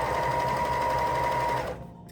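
A sewing machine runs steadily, stitching layers of silk for a worship flag, a close, continuous motor whir that cuts off abruptly near the end.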